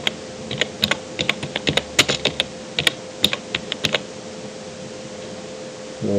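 Typing on a computer keyboard: a quick burst of close, crisp key clicks in uneven rhythm over a faint fan hum, falling silent after a few seconds before a soft low thump at the end.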